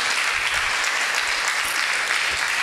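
A church congregation breaks into sustained, dense applause at a Spanish-language religious service, the clapping steady and even throughout with no pauses.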